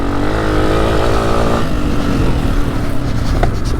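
Honda CRF250F trail bike engine held on the throttle through the turns of a motocross track, a steady loud droning buzz that shifts pitch partway through, close and continuous, with no talk.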